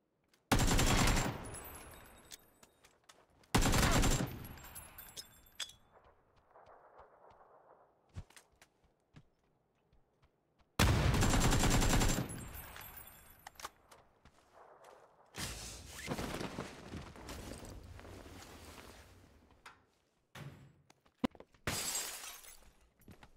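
Gunfire in a PUBG match comes in sharp loud bursts separated by quiet stretches, mixed with isolated single cracks and a few rapid volleys, with a brief murmur of voices in between.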